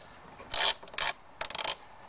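A 10mm socket wrench ratchets loose screws from a bracket during a pod air filter install on a Jeep Patriot, heard as three short, close bursts of rapid clicking separated by brief pauses.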